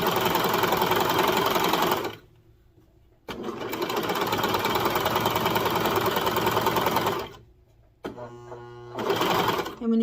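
A sewing machine top stitches a seam on a baby bodysuit in three runs of rapid, even needle chatter separated by short pauses, the last run brief with a lower motor tone.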